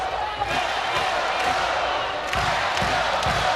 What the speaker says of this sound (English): Crowd turning it up.